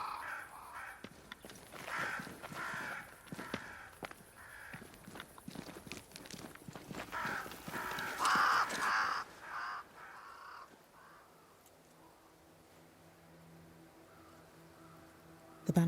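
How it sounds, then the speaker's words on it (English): Crows caw repeatedly in the Banishers: Ghosts of New Eden video game, harsh calls over the clip-clop of horse hooves and footsteps before the scene quiets to a low hum. "Crows. They flock to that great tree up there."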